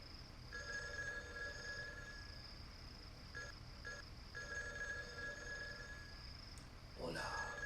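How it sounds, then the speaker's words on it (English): A telephone rings in a hut in the video game Ark of Time, electronic bursts repeating in a steady pattern with brief gaps, set over a constant background hum, and a short noisy sound near the end. "The telephone is ringing."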